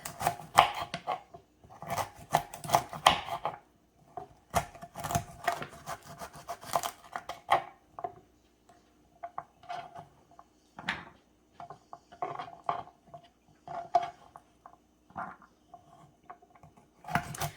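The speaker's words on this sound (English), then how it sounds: "And we're just gonna chop these up." A knife chopping carrot sticks on a board for a cabbage and kielbasa skillet, quick bursts of crisp close knocks in irregular runs, separated by short pauses.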